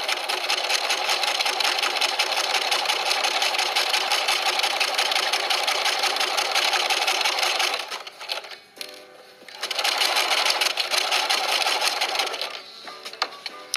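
A sewing machine stitching a quarter-inch seam runs in a loud, steady close whir, stops briefly near the end for a few clicks and handling, then restarts.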